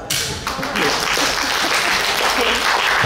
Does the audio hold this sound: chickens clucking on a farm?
no